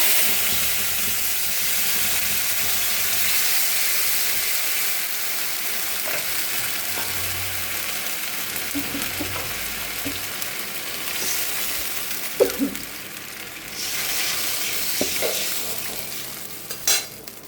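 A ground paste of spices, onion, tomato and ginger fries in a pan with a loud, continuous sizzling hiss. Occasional scrapes and taps of a stirring spoon break through, close up.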